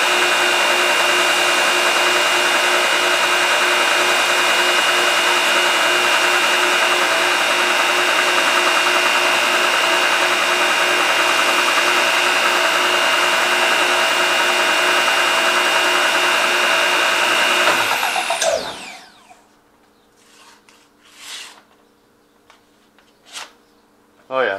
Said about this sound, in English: then we'll throw it on the buffing wheel and shine it up a little more